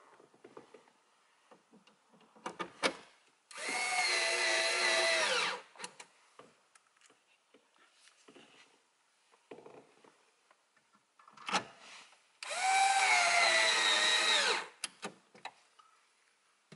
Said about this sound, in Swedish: Och då skruvar vi åt några skruvar här så att det inte glider ner